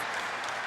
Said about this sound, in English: Oh, y'all clapping because I said 5 to 10 minutes.